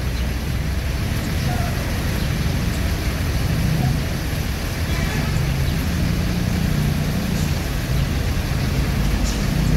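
Inside a moving Prayogo bus on the road, a constant low engine and road rumble drones loud and unbroken, with a faint broadband hiss of tyres and wind above it.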